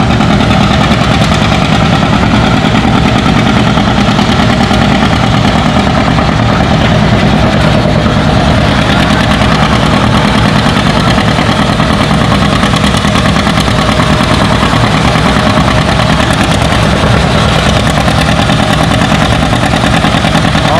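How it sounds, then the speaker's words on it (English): A John Deere 720 tractor pulling the big sled at a tractor pull gives a loud, steady, heavy engine drone with a rough knocking vibration, unbroken and near throughout. "next up we got a John Deere 720 on the big sled"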